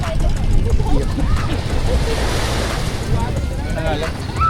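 Steady wash of surf with wind buffeting the microphone, continuous and fairly loud, with faint voices mixed in at times.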